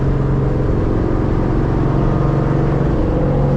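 Ford Mustang 5.0 Coyote modular V8 running loud and close, a continuous deep throaty exhaust drone that climbs and settles in pitch, alone without voices.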